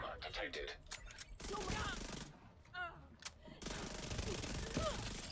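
Rapid SMG fire in The Division 2 video game, a fast, dense burst stream with brief gaps, loud and sustained, while someone speaks over it.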